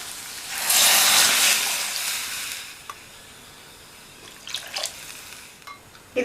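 Water is poured into a pan of vermicelli kichidi (semiya), a loud broadband rush for about two seconds that fades to a low hiss, followed by a few faint clinks and drips.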